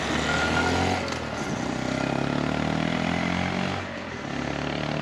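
A 2022 Honda Monkey 125 motorcycle at motorway speed, its small engine droning steadily under heavy wind rush, loud and continuous with a slight dip in intensity near the end.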